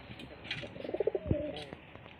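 A soft, low cooing of native domestic pigeons, a short burst of throaty coos in the middle against faint background noise.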